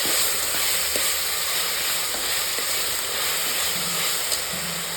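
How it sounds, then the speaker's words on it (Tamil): Tomatoes sautéing in oil in a pan for vegetable biryani give a steady close sizzle and hiss, with occasional faint stirring clinks and no talking. "போட்டு தக்காளி வதங்குற வரைக்கும் நம்ம வதக்கிக்கலாம்."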